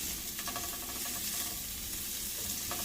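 Shrimp sizzles steadily in a hot pan while cooking for a shrimp quesadilla, a loud, continuous frying hiss with faint crackles throughout.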